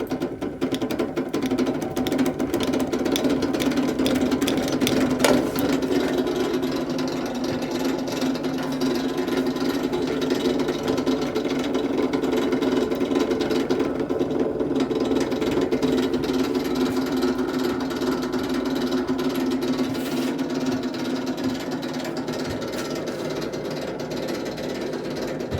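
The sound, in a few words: heavy wheel spinning on battery-powered induction motor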